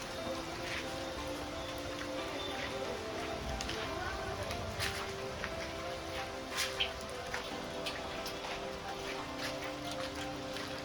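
Steady heavy rain falls on a village during a storm, a dense continuous hiss with scattered drop impacts, while a voice talks faintly underneath.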